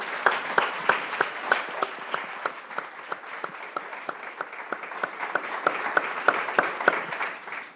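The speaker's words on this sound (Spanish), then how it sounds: "Démosle un aplauso al Señor." A church congregation applauds during a Spanish-language service, with sharp, rhythmic claps that run steadily and close from start to finish.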